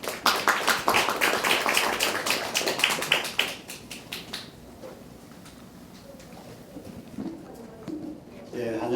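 An audience at the 2016 Jeju Forum session on women's empowerment and corporate sustainability claps to welcome the UN Global Compact secretary-general: dense, loud applause for about four seconds, then it thins out to quiet room noise with a faint voice near the end.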